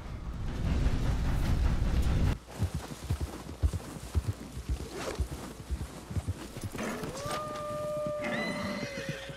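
Horse hooves clop in uneven beats in the video game Red Dead Redemption 2. A loud rumble at first gives way to scattered hoof thuds, then a horse whinnies in long drawn-out cries near the end.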